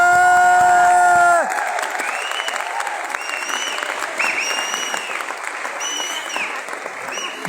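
An audience at an IMC network marketing seminar breaks into sustained applause and scattered whoops after a brief sustained musical tone cuts off, the clapping steady and fairly loud with occasional shouts over it.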